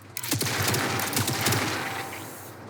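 Rapid volleys from an auto laser weapon in a sci-fi strategy game, a dense burst of repeated zapping shots that rattle on for about two seconds before trailing off.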